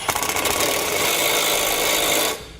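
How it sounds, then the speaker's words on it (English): A power tool drives a 9/16 socket to tighten U-bolt bracket hardware on a no-drill mount kit for a Firestone air tank, a loud, steady, rasping whir that runs for about two seconds and then cuts off. "we can go ahead and snug up our hardware"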